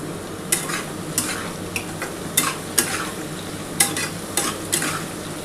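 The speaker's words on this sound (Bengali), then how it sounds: "খুব ভালো করে কিন্তু পেঁয়াজটা ভাজতে হবে।" Onion and tomato fry in a hot pan, with a steady sizzle running throughout and a spoon scraping and stirring in repeated strokes, close and fairly loud, with no talking.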